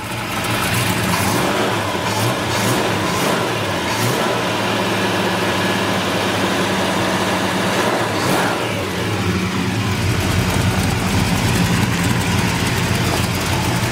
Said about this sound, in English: Totally cold, the motor.